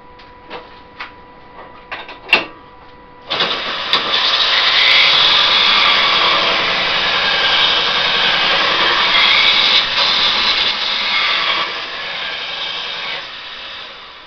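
A small bowl gouge is sharpened on a grinder in a woodturning shop, a sustained loud hiss of steel on the wheel that starts abruptly after a few light knocks and runs steadily with slight swells.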